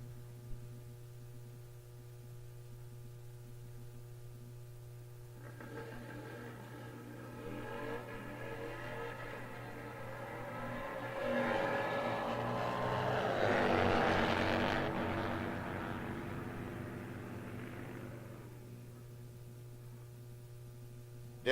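A 1998 Harley-Davidson Sportster and a 2000 Harley launch side by side in an index drag race, engines swelling into a loud roaring pass that peaks mid-run and fades into the distance.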